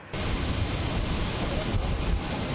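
Passenger airliner arriving at Kazan airport after a flight from Grozny, a steady broadband engine roar with a high whine, loud and continuous throughout.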